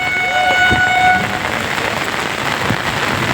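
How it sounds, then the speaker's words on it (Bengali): A train horn sounds with steady tones early on over heavy, noisy rain and wind during a storm in Kolkata, the rumble of an arriving train running beneath the downpour. "আর এই মুহূর্তে একটি ট্রেনও ঢুকছে"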